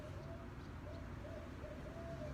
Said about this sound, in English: there's one bird who's making a decent amount of noise.